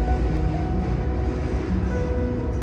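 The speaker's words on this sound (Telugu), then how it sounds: "ట్రైన్ వెళ్తుంది ఇప్పుడు." A train passes in the United States with a continuous low, heavy rumble and faint rattling of cars, steady and fairly loud throughout, with no horn and no voices.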